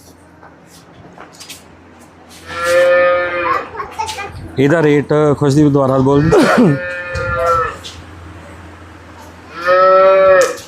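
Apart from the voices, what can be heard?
cow mooing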